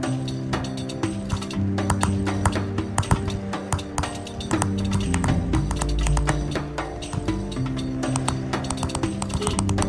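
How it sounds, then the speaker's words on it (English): A teardrop-shaped chisel is tapped into copper while engraving a design, a rapid, steady stream of sharp metallic clicks and taps up close, with a faint tonal hum underneath. "This chisel is shaped like a teardrop, and the engraver uses only half of its tip."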